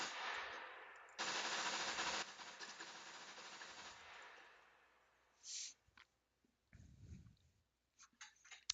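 Gunfire from the video game SCUM, fired single shot at medium range toward a tree, comes through as faint bursts with a louder sustained stretch and scattered shots, then quieter clicks and thuds.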